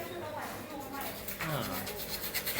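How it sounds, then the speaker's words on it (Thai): Rough rasping strokes of a hand saw cutting through material during a home air conditioner installation, repeated back-and-forth scraping at close range. "ไปใช้เลื่อยนะครับ นี่ฮะ หนูเลื่อยเลื่อยกับมือนะครับ"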